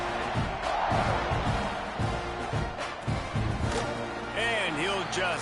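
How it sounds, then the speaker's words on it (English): Dense, steady roar of a Kentucky college football stadium crowd buzzing after a score, filling the whole stretch with a commentator talking over it. "this crowd is buzzing after that last score"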